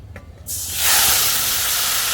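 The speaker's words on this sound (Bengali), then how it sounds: "তেল গরম এর মধ্যে দিয়ে দেবো সর্ষে ফোড়ন" Mustard seeds hit hot oil and burst into a loud, sustained sizzling hiss that swells within a second and holds steady, close and bright, with a few soft knocks just before.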